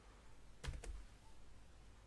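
Several computer keys pressed together as a Windows, Ctrl, Alt, J shortcut, giving a short cluster of two or three quick, soft clicks over a quiet background.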